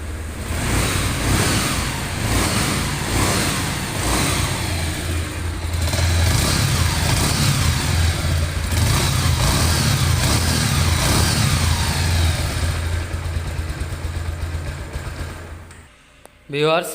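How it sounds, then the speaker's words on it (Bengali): A Bajaj Pulsar single-disc motorcycle in fresh condition runs close and loud, its engine droning steadily and swelling through repeated throttle revs before dropping away near the end and giving one last short burst. "বাইকটির পিক আপ টেনে এবং ছেড়ে দিয়ে আপনাদেরকে বাইকটির সাউন্ড কোয়ালিটি দেখালাম"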